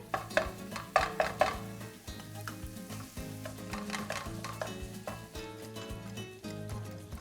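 Ground beef frying in a pan as taco filling, a steady sizzle broken by several sharp clinks and scrapes of a utensil against the pan, loudest in the first couple of seconds, with no speech.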